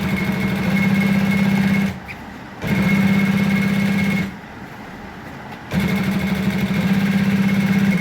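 A sewing machine stitching a shirt collar runs in three steady bursts with two short pauses between them, a close and even motorized hum.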